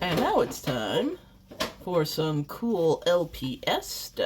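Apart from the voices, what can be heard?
No everyday noise stands out behind the speech.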